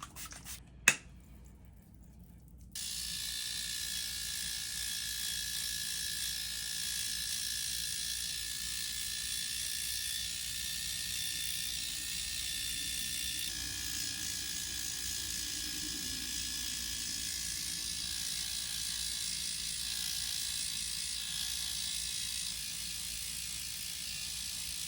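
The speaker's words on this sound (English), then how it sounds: "So I'm just going to use this Flawless face shaver." Flawless electric face shaver running as a steady high-pitched whine after a few taps and a click to switch on, held close and continuous for over twenty seconds with no talk.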